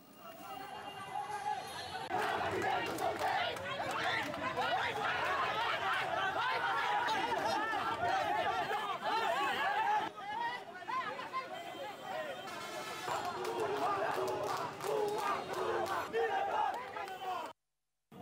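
Protesting student activists shout slogans during a clash, many voices yelling and chattering together in a loud, continuous crowd that fades away at the end.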